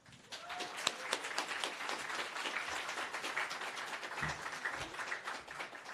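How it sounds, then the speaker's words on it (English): Audience applause at a Samsung Solve for Tomorrow reveal event as a speaker is welcomed to the stage, a steady patter of many hands clapping throughout, moderately distant and even. "So please give a round of applause as I introduce and ask to the stage Nancy J."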